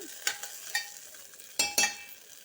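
Red chillies frying in a pan for coconut chutney, giving a soft, low sizzle broken by several sharp scraping stirs and clinks, with a couple of louder strokes near the end.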